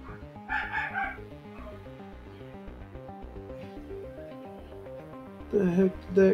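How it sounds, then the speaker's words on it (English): Several dogs barking and yipping indoors in a quick, uneven series, with sharper, louder barks near the end and a voice talking over them. "My dogs."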